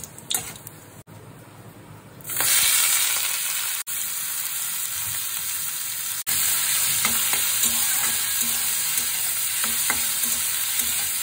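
Food frying in a pan in a home kitchen, a steady close sizzle that starts quietly and jumps louder after a couple of seconds, with faint crackles and the occasional stir.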